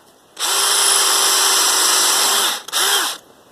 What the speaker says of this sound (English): But I prefer to pre-drill my pieces.